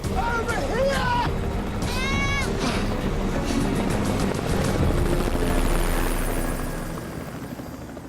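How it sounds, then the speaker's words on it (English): A search helicopter passes almost directly overhead in the Outback desert, a loud, steady rotor roar that fades toward the end, with a high voice shouting over it at the start. "A search helicopter flies by almost directly overhead."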